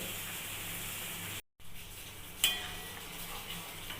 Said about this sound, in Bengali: দেখুন ডাল ফুটছে